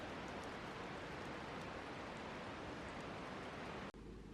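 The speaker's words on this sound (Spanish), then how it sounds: "la lluvia, la nieve, la cascada" Steady rain and a rushing waterfall in a snowy national park near Curacautín, a dense, even wash of water noise throughout, briefly cut by a handling bump near the end.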